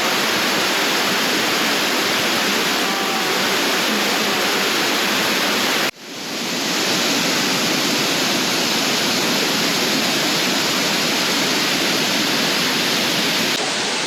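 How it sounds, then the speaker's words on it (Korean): Heavy waterfall roars in a steady, loud, close wash of falling water, briefly dipping for an instant midway before resuming at full force. "폭포 샤워기인데 저거는?"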